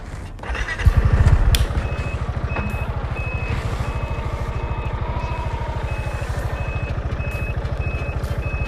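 Piaggio MP3 500 HPE Sport Advanced scooter in reverse, its motor droning in a fast pulsing hum while a high reverse beep repeats at an even rhythm, after a brief thump at the start.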